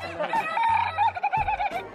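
Close chicken clucking and squawking, several quick calls in a row, loud and alone.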